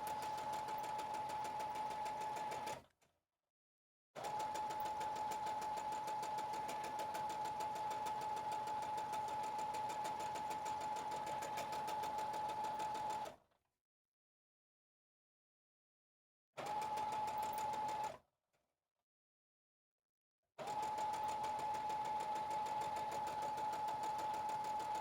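A sewing machine stitching in long steady runs with a constant whirring hum, close and fairly quiet, stopping and restarting several times with silent gaps between runs.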